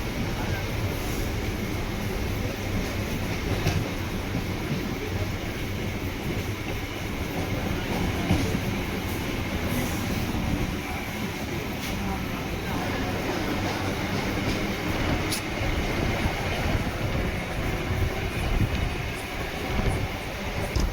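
A Chennai EMU suburban train on the Beach to Tambaram line runs at night with a steady rumble and clatter of wheels on rails, heard from inside the carriage as a continuous, moderately loud drone with occasional sharper clicks.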